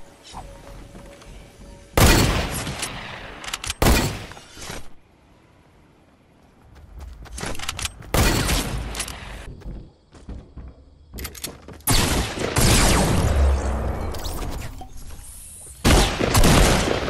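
Gunfire in a video game comes as loud, sharp bursts of shots and booms separated by quieter stretches, with some scattered clattering between volleys.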